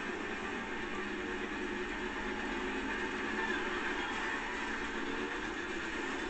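Steady, continuous rumble and hiss of a train running alongside during a race in Forza Horizon 2, an even, unbroken roar with no talking.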